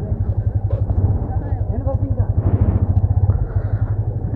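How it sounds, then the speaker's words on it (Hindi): A motorbike threads through narrow village lanes near a Rajasthan fort, its engine thumping close and steady throughout while a voice talks over it. "पतली पतली गलियों में से बाइक को निकालते हुए"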